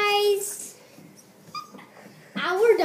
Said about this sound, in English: Our dog.